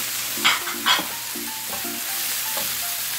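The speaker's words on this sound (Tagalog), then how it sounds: "And ilagay na natin ang ating pork giniling." Ground pork sizzles in a hot pan, a steady frying hiss broken by a couple of louder scraping stirs near the start, with no talking.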